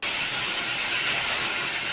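Hog plums (amra) dropped into hot oil with chilli give a steady, loud, even hiss that sets in sharply and holds without a break, with no talk over it.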